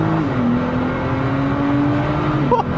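Nissan GTR R35 running without a muffler, 560 hp, heard from the passenger seat as a loud, steady engine drone with a rising tone late on.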